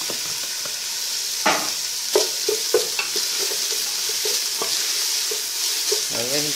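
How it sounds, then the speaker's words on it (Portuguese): Sausage frying with softened onion in a pan: a loud, close sizzle punctuated by repeated clanks and scrapes of a utensil stirring against the pan. "Aí a gente vai dar uma boa fritada nessa linguiça aqui agora."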